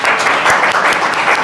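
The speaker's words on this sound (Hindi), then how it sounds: "जोरदार तालियां भाई।" A university youth conference audience breaks into loud, sustained applause, a dense wash of many hands clapping together with no pauses.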